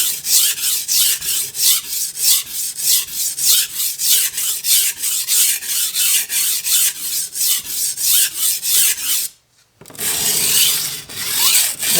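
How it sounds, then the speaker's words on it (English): Knife steel rasping back and forth on a coarse sharpening stone in quick, steady strokes, loud and close, with a brief pause before the scraping resumes. "You can clearly hear the coarseness of this stone, very aggressive."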